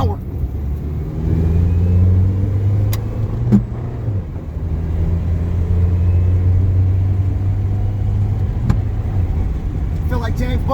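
A 2002 Toyota Echo engine pulling away in first gear, a steady loud mid-pitched drone with a rising hum as it accelerates, heard from inside the car, with a couple of brief clunks.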